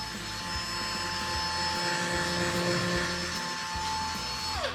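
A Ryobi cordless drywall sander with a sealed switch and battery compartment runs steadily with a continuous motor whine and hum, close and moderately loud, then winds down at the very end.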